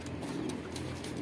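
A racing pigeon coos softly in a loft. The faint, low cooing is partly buried in steady background noise, and no one speaks.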